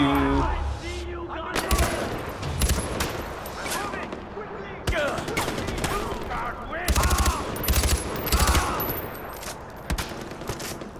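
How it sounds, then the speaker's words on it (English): Repeated gunfire bursts from a Far Cry 4 firefight, loud rapid shots and sustained volleys crackling across the scene, with a voice talking over the shooting. "Was that a gunshot?"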